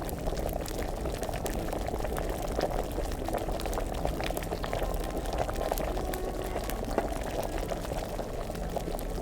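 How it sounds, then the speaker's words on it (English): A pot of water boils hard and steadily in a medieval video game, a continuous dense bubbling and rolling churn held at an even, fairly loud level throughout with no voices. "this one was boiling a lot harder now"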